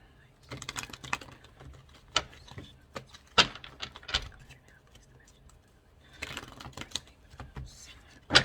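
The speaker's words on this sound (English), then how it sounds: "Try to shuffle one more time." Soft tarot cards riffle and slap in quiet bursts, shuffled several times with pauses between, close and gentle with faint whispering.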